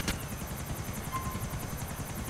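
A video game helicopter's rotor, from Grand Theft Auto IV, thuds in a steady rapid rhythm, moderately loud and continuous, with no voices.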